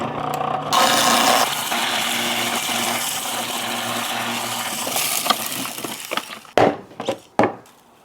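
Homemade rusk is forced through a food processor fitted with a cheese grating die, producing a loud, coarse grinding roar for several seconds that ends in a few sharp clattering knocks.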